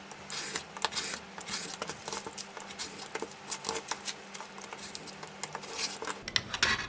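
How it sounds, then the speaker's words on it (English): A blade trimming a traveler's notebook insert along a ruler, making quick, close scratchy rasps and light ticking strokes in a continuous run, ending in a few soft taps. "It might take a few passes with the blade to get through depending on how thick the insert is"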